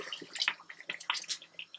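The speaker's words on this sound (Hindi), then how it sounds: "यहीं पर मैं ऐड करूँगी पानी" Water is added to a pot of Punjabi dhaba-style tari wala chicken curry, giving a quick run of splashing, bubbling and trickling sounds up close, with no talking.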